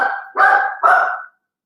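A dog barks three times in close succession, loud and near, each bark a strong harmonic yelp, with quiet afterward.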